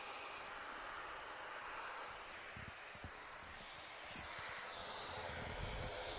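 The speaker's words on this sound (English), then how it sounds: "Beautiful aircraft." An airliner's engines roar steadily in the distance at Manchester Airport at dawn, a faint, continuous broadband rumble with no voices.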